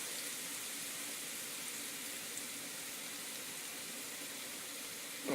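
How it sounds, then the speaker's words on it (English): Chopped onions sizzle in a skillet over medium heat, ground beef and diced tomatoes waiting nearby: a steady, faint hiss of frying runs evenly throughout, with no voices. "there's those onions sizzling in the skillet"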